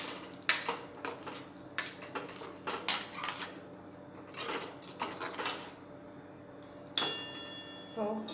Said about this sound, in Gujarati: દાણા મેં ધોઈ અને કોરા કરીને રાખેલા છે એટલે આપણે ડાયરેક્ટ આ રીતે જ એડ કરી દઈશું અને મિક્સ કરી લઈશું